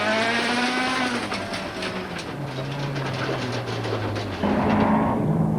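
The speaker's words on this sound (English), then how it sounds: "Listen and watch as he battles with a punctured tire." A turbo rally car on a mountain rally stage drives with a punctured tire. The engine gives a steady, loud droning note that shifts pitch and jumps louder near the end, with a rough clattering texture.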